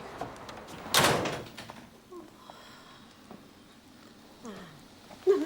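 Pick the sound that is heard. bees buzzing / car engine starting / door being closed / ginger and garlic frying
door being closed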